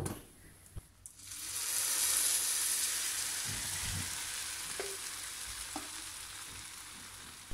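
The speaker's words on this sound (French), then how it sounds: "je verse mon sirop tout de suite après avoir sorti mon qalbellouz du four" Cooled syrup poured over hot qalb el louz, an Algerian semolina cake fresh from the oven, gives a steady loud sizzling hiss that begins abruptly and slowly fades, with a few faint clinks.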